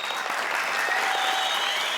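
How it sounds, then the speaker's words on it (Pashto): Dense, steady audience applause fills a Pashto-language TV quiz show studio, even and close, lasting the whole moment with no talk over it. "په ویاړې چکچکې دوستانو"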